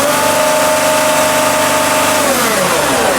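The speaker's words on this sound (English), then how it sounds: "Rev it harder." Diesel engine of a Mercedes Sprinter van with low power and DPF trouble, revved hard and held at a steady loud roar, then dropping in pitch near the end as the throttle eases off.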